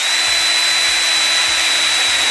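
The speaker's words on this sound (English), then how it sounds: "4mm drill bit in the drill, and we're going to start drilling up into the steel." A power drill fitted with a 4mm bit bores up through plasterboard into steel, giving a steady, loud whirring whine that runs unbroken and alone for a couple of seconds.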